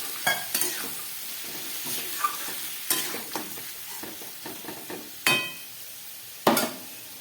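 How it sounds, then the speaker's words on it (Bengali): Jackfruit curry in a hot pan sizzles and bubbles as a little water is added, with brief clatters of stirring and a few sharp spoon knocks on the pan, close and fairly quiet. "আরও সামান্য একটু জল দিয়ে দিচ্ছি।"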